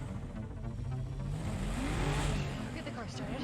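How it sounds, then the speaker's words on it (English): A car engine revs steadily and loudly throughout, with a rising and falling pitch, mixed with dramatic background sound and voices. "He's literally just sitting there revving his engine, just wasting gas."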